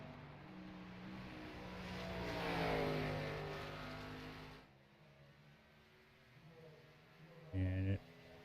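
Race car engines on a circuit in a sim racing league game: a steady droning whine that swells and recedes as cars pass, dropping away to a quieter background before a brief louder burst near the end.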